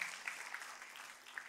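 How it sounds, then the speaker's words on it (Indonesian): A church congregation claps during an Indonesian sermon, a faint, brief burst of scattered applause. "tepuk tangannya boleh paling meriah buat Tuhan kita."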